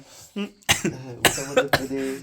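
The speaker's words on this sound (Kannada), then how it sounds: "ತನಗೂ ಕೆಮ್ಮು ಬಂದ್ಬಿಡ್ತು" A short burst of several harsh coughs, close and sharp, after a brief throaty sound.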